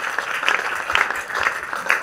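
A church congregation claps for Jesus Christ in an even, rhythmic beat of about two claps per second, somewhat distant and blended with the hum of the room.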